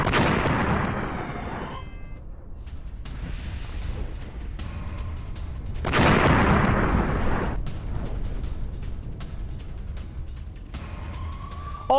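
Airstrike explosions in Damascus, Syria, come as deep booming rumbles in two long heavy waves with a background roar between them, distant and sustained rather than sharp, with no voices.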